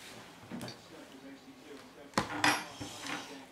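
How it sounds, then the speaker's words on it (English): A spoon scrapes and clinks against a container while scooping out mealworms, a few soft scuffs then two sharper metallic taps close by, with light room noise. "Like a spoon here, we'll lift them out"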